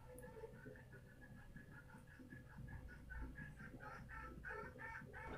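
Chickens clucking in the background, a run of repeated clucks and calls that grow a little busier and louder toward the end, over a low steady hum.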